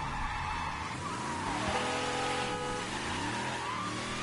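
A car in the Mafia III video game drives hard with a continuous engine drone that rises and falls in pitch, overlaid by drawn-out tire skidding and squealing through the turns, loud and close throughout.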